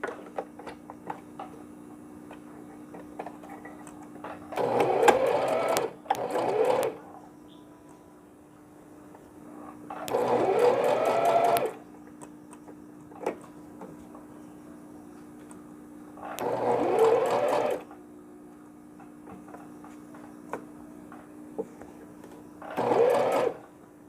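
Sewing machine stitching the stuffed ear onto a newborn round pillow, running in four separate bursts of a second or two each, with quiet pauses between them and no talking.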